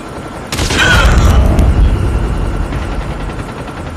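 Helicopter delivering a care package in a first-person shooter video game, a loud sudden whooshing rotor roar that swells in and then holds as a dense rumbling wash, close and heavy, with no talk over it.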